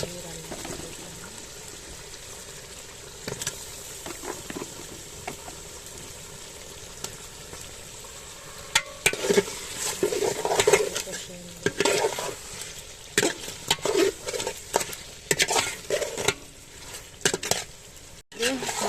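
Fish pieces with fish head stirred into a spiced masala for a maskalai dal dish, soft sizzling under clattering spoon strokes against the pot, louder scraping bursts in the second half.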